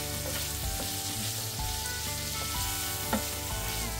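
Green chillies, slit down the middle, sizzle with onions in a pan while being cooked to light brown for shakshuka, a steady dense frying hiss with occasional stirring clinks and scrapes, close and continuous, no talking.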